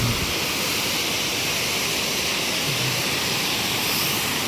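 Kaigal Falls waterfall pouring steadily, a dense, unbroken roar of rushing water close by, loud and constant with no voices.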